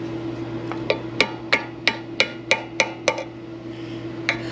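Hammer blows ringing out in a garage where a stock car is getting an LSX engine installed, about a dozen sharp metallic strikes in a steady rhythm over a constant electrical hum, close and loud.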